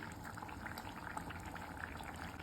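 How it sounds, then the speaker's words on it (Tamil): A pot of paneer masala curry gravy bubbles at a steady, gentle boil, soft popping and blipping close by with no talking. "நல்லா கொதிக்குது"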